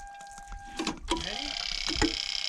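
A Toyota Land Cruiser 100 series with a dead battery gives rapid, repetitive starter clicking, a fast steady chatter that begins partway through and continues to the end, with brief speech-like sounds before it.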